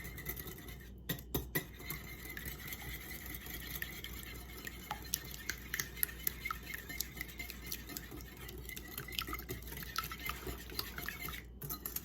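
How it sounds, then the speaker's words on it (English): Cookie batter with vanilla whisked in a bowl, a faint, fast, continuous scratching and tapping of the whisk against the bowl with no voices. "we are going to whisk it all together"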